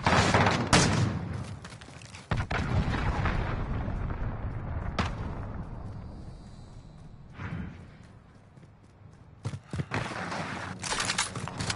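Allied cruise missile strike in a Modern Warfare game, with sharp blasts and heavy rumbling impacts, a long rolling roar fading to a lull, then a fresh cluster of explosive cracks.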